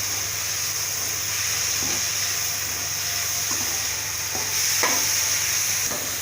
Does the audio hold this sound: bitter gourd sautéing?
yes